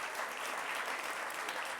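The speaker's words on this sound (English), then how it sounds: "Can we have a big round of applause for all of our panellists?" Round of applause for the football panellists at a live YouTube creators' event, a dense, steady crowd clapping throughout with no gaps.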